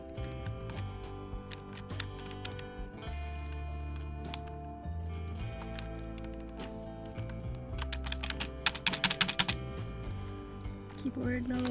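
A computer keyboard clicks in scattered, quick taps that turn into denser bursts near the end. The typing sits quietly under steady background music and game sounds.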